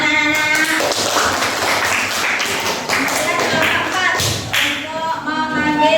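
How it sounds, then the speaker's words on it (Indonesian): Schoolchildren clap their hands in a classroom, a loud run of irregular, overlapping claps lasting several seconds, with voices talking over them. "Ya, tepuk tangan anak-anak."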